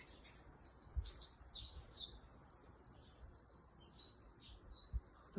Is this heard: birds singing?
yes